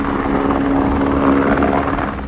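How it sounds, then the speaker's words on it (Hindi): A rescue helicopter called to a highway accident scene flies overhead, its rotor and engine giving a loud, steady droning hum with no break. "रेस्क्यू करने के लिए एक हेलीकॉप्टर घटनास्थल पर बुलाना पड़ा"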